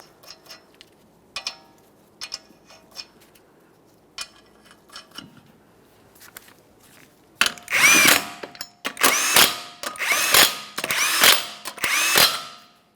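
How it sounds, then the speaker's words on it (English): An impact-style power tool runs down 21mm lug nuts on a 2014-2019 Toyota Corolla front wheel, loud close bursts repeating in quick succession after several seconds of quiet light clicks and handling. "start on all 5 of your 21mm lug nuts and we'll bottom them out"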